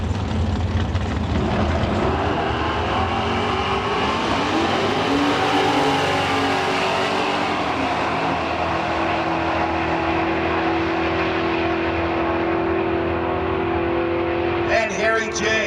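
At a street car drag race, a 1977 Chevy with a 496 big-block engine roars loudly and steadily, its pitch climbing and falling as it revs, while an announcer talks over the noise.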